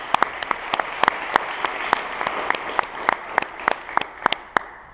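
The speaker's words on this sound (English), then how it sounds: "Big round of applause for our panel." Conference audience applauding a panel at a cannabis reform conference, a steady patter of many hands with several sharp, close claps ringing out on top, lasting about five seconds without speech.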